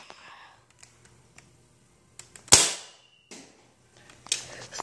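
A toy Nerf gun fires once with a sharp, close snap and a short hissing burst, surrounded by quiet handling clicks and rattles and a second fainter crack near the end.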